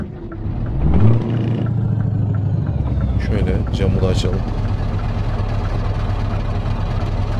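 Scania S500 truck engine idling in a truck simulator game, a steady low rumble running throughout while someone talks over it.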